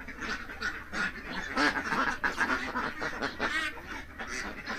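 Ducks on a duck farm quack continuously in a dense, loud chorus of overlapping calls close by, with no pauses.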